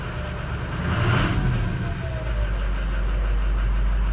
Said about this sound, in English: definitely something wrong with this fan clutch